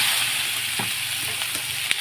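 Boiled potato fritters frying in white oil in a pan: a steady, close, broadband sizzle with a few soft clicks and taps from a utensil, and no talking.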